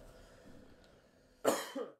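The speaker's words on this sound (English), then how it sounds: "that cough is quite loud" Near-silence broken by a single loud, sharp cough near the end, followed by a shorter raspy tail.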